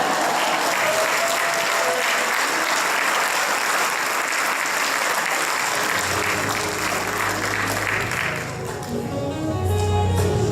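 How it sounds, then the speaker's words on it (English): A crowd at a senior awards ceremony applauds the graduating class, sustained loud clapping throughout, with music starting to swell underneath in the second half. "Let's have another round of applause for all the graduates of the JMB class of 2000"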